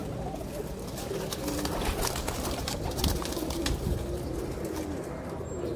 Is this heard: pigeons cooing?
yes